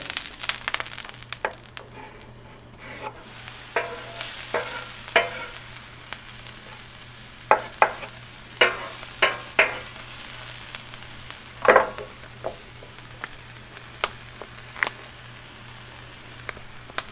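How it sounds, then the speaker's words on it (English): Vegetables sautéed in a pan as a topping for a spicy smashed burger, with a continuous sizzle and scattered sharp scraping and tapping strokes of a utensil, close and steady, with no talking. "we're going to saute it a bit and just throw it on after it's done"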